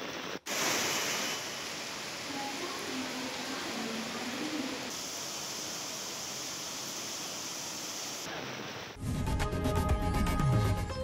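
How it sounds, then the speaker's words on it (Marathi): Heavy rain pouring down over Mumbai and its suburbs, a steady broad wash of rainfall noise with a faint bird call in it, cut off near the end by a louder musical sting. "मुंबईसह उपनगरामध्ये मध्यरात्रीपासून जोरदार पाऊस कोसळतोय"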